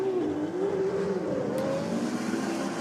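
A Nissan Skyline GT-R and a Mazda R100 rotary coupe accelerate hard in a roll race, a loud, steady engine drone with a rising and wavering pitch that fills the whole stretch.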